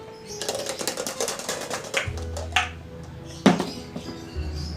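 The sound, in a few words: dice being shaken for a board game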